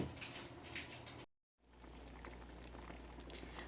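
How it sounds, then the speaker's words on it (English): Liquid bubbling and simmering in a pot, a soft steady burble, briefly cut to silence partway before resuming at a quieter level. "my broth has been boiling and simmering for about 2 hours now"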